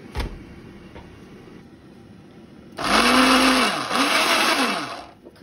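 Blender pureeing a banana and honey baby food mixture with a little water, a loud steady whirring burst of about two and a half seconds with the pitch dipping as the load shifts, following a quiet lead-in.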